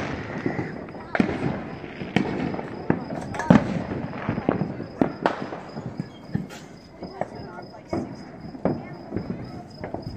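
Fireworks burst repeatedly over a neighborhood on the Fourth of July, sharp cracks and pops arriving in an irregular rapid series at moderate distance, with a person talking intermittently between the bangs.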